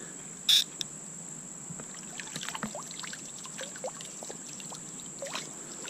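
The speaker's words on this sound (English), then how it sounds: "Oh, I just poured water down my hand." Water trickles and splashes lightly over a hand outdoors beside a city creek, in scattered small drips and dribbles. Crickets chirp steadily behind it, and one sharp tap sounds near the start.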